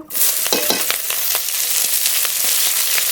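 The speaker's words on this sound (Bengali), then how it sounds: "পেঁয়াজটা একটু ভাজা ভাজা করে নেব" Chopped onion hits hot mustard oil in a kadai already tempered with dried red chilies and panch phoron, setting off a bright, loud sizzle with repeated stirring scrapes close by.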